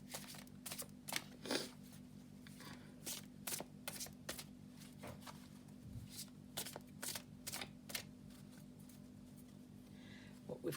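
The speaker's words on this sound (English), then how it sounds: "So I'm just going to put down one of these beautiful symbolic aura oracle cards as well." Oracle cards are shuffled and laid down in a tarot and oracle reading, giving a run of close, crisp card flicks and soft slaps at an irregular pace over a steady low hum.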